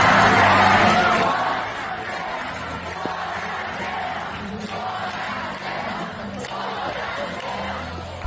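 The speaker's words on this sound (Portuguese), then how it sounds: "o Romeu Zema sendo vaiado." Crowd at a public event booing Brazilian governor Romeu Zema, a loud roar of voices at first that settles into sustained jeering and scattered shouts from a large gathering.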